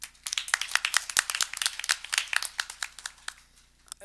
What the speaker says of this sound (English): give a round of applause for Joseph Resnick.